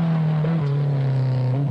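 A redesigned Ford Escort rally car on the final day of the 1978 Motogard Rally of New Zealand, its engine note holding steady and close with a slight pitch drop as it drives past, no voices.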